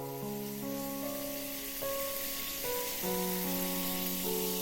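Heavy rain pours down mixed with water running from a shower, a steady broadband hiss carried under sustained, shifting music tones throughout, with no talking.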